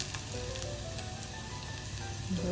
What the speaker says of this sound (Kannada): ಹಸಿಮೆಣಸಿನಕಾಯಿ ಹಾಕಿ ಈರುಳ್ಳಿ ಹಾಕಿ ಫ್ರೈ ಮಾಡಬೇಕು ಸ್ವಲ್ಪ ಹೊತ್ತು